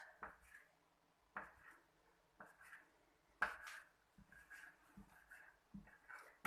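Knife slicing through a strip of homemade pasta dough on a board while making bow ties, a series of short, soft cuts spaced roughly a second apart, close and quiet with no talking.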